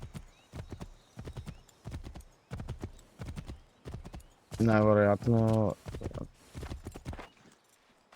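Horse hooves clip-clop steadily in a riding scene from Assassin's Creed III Remastered, rhythmic and close, with a loud whinny mid-way and someone speaking briefly.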